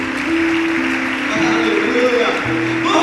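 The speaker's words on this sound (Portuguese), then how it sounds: "você pode aplaudir o Senhor por isso" A church congregation claps steadily in a dense wash that runs throughout, mixed with sustained voices or music.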